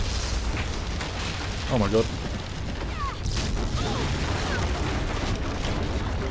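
Explosions tearing through a ship in The Walking Dead final season game: a continuous rumbling, crackling roar fills the scene, and a voice briefly exclaims over it.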